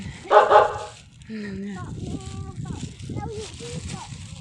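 A puppy on Samila Beach in Songkhla, Thailand, gives a couple of sharp yips, then whimpers and whines while a person talks nearby.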